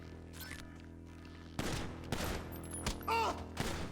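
Gunfire in the GTA Online video game: scattered loud shots ring out in bursts, including a sharp volley partway through and several further cracks, over quiet game ambience.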